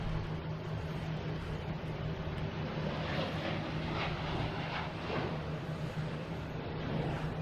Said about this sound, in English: there's the British Airways coming back around. Got the tail of it on that last takeoff.